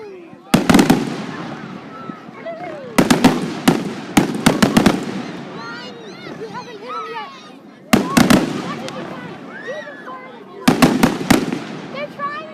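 Canada Day fireworks over McAdam burst in loud clusters of sharp bangs, some close together and others spaced seconds apart, with crackling and people talking underneath.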